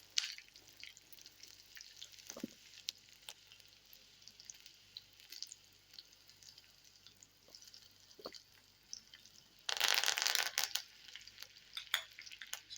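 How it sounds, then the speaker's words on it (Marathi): Curry leaves crackle in slightly cooled hot-oil tempering with green chillies for dhokla, giving faint scattered pops and a steady soft sizzle, then a louder burst of spattering crackle near the end, with no voices. "छान असा फुटलेला आहे आपला कढीपत्ता"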